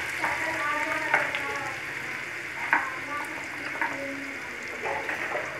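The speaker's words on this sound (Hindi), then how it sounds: "अब इसमें हम डालेंगे 1 ऑनियन, हमने बड़ा ऑनियन को चॉप करके रखा है बारीक।" Finely chopped onion and garlic frying in a pan for cabbage manchurian produce a steady close sizzle, punctuated by several brief scraping stirs, with a faint voice in the background.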